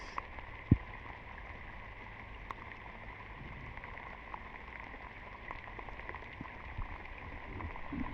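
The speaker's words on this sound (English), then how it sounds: "Oh man, the rain is really coming down now." Steady torrential rain patters and hisses on surfaces of a sailing boat nearby, a constant wash of drops with one sharp knock early on.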